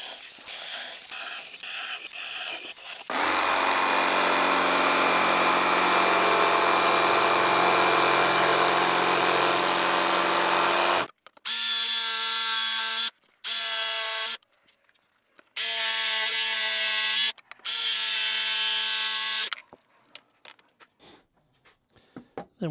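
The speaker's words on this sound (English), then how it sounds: "Now I'm going to take a 1/2 inch Forstner bit and drill each one of these corners" A power drill driving a 1/2 inch Forstner bit through each corner of a heavy-duty truck drawer build, loud whirring bursts: one long run, then several shorter drilling passes separated by silence.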